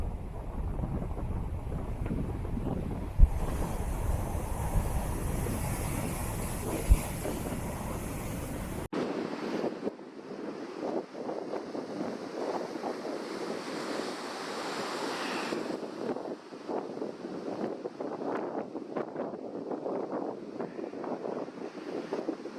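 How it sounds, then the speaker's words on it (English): Strong, gusting wind buffets the microphone over the rumble of ocean waves breaking on the West Coast of New Zealand's South Island, a steady roar with surging swells, no voices. "The wind is howling today and it's really kicking up some spectacular waves."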